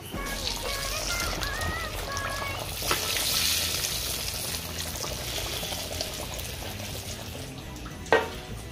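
Chana dal puri deep-fries in hot oil with a soft, continuous sizzle and bubbling, a brief clink near the end.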